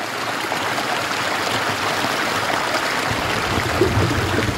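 Water of the Abuelo waterfalls pours through a basalt canyon, a dense, steady roar that holds even and close for the whole stretch without pause.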